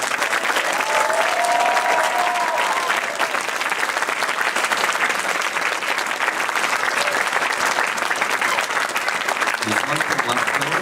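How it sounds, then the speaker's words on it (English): Quiz competition crowd gives a sustained round of applause for the winning team at an awards ceremony, dense and steady clapping throughout with a brief voice near the end. "So one final round of applause for this year's Kaleidoquiz champion"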